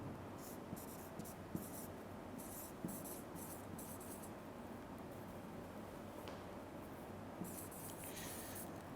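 Pen or marker writing during a math lesson makes faint, intermittent scratchy strokes in short bursts over a quiet room background, with no talking.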